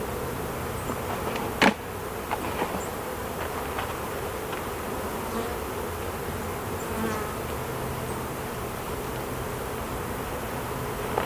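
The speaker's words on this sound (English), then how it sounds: "These bees are not happy today." Agitated honeybees buzz thickly around an open hive during an inspection amid robbing, a dense, constant drone with individual bees whizzing close past now and then.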